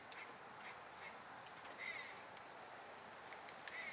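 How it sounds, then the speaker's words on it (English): Repeated chattering, bird-like calls from a squirrel, moderately distant, rising over a steady hiss of outdoor background noise. "it's a squirrel making that sound"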